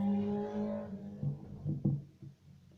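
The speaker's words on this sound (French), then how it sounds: "J'en ai marre de toutes ces motos qui passent tout le temps." Motor vehicles pass by outdoors in a street, the engine roar swelling and fading with a couple of louder surges, the first one close and loud before later passes trail off.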